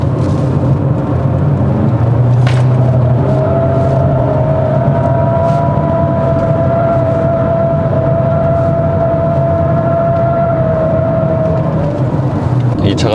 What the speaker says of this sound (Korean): 지금처럼 약 한 90km로 콘크리트 노면을 주행을 할 때 타이어 소리가 좀 이렇게 많이 들어옵니다